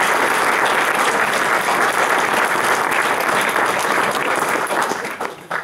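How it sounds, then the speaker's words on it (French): An audience at a mayor's New Year address applauds emergency services, sustained dense clapping that holds steady, then tapers off at the end. "Je crois qu'on peut les applaudir."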